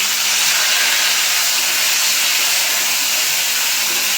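Boiled whole gourd greens added to a pan of browned onion, chili and garlic, giving a steady loud hiss of steam and sizzle that holds evenly from start to finish with no talk.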